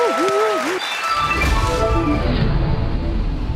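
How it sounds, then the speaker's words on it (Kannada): A studio audience on a Kannada TV game show breaks into loud applause. Before the clapping swells, a sung or musical jingle plays briefly, then dense applause carries on steadily to the end. "ಅವರಿಗೆ ಜೋರಾದ ಚಪ್ಪಾಳೆ"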